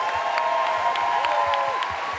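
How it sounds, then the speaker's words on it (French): A crowd at a television series festival's closing ceremony applauds continuously, with a steady wash of clapping, a few brighter claps and a tonal hum running underneath. "on peut les applaudir encore s'il vous plaît"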